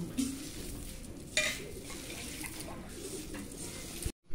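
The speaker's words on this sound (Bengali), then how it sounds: "স্বাদ মতো লবণ, চিলি ফ্লেক্স, ধনে গুঁড়ো, 1 চামচ সরষের তেল ভালো করে মাখিয়ে নেব" A soya chunk cutlet mixture with salt, chili flakes, coriander powder and mustard oil is kneaded and squished by hand in a bowl, a soft, close, continuous wet mashing with one sharper knock partway through before it cuts off.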